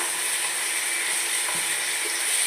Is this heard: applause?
no